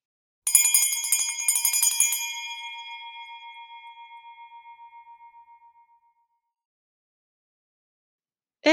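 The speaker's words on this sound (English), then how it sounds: "It's a bell." A bell struck with a bright metallic clang, rung in a quick run of strikes before it rings out alone and slowly fades over several seconds.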